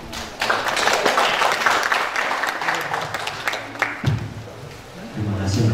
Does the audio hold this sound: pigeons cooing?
no